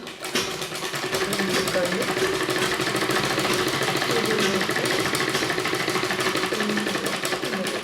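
Sewing machine stitching two folded pieces of cloth together, a steady fast mechanical whirr running continuously and fairly loud throughout.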